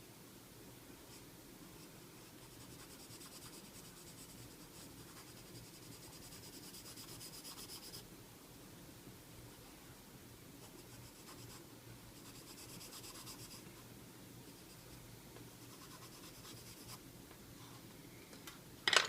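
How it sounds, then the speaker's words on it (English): Pencil sketching lightly on paper with the side of the lead, a soft, continuous close scratching and rubbing that swells and fades in gentle strokes, with no talking. "I'm using more the side of my pencil here. Just pretty light."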